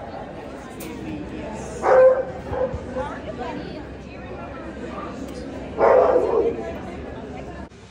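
A 12-month-old Black Russian Terrier puppy gives two short yappy barks several seconds apart over a quiet, rustling background during grooming.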